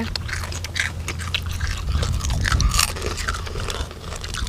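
Crisp pork cracklings are bitten and chewed up close, giving a steady run of loud dry crunches and crackles with no talk over them.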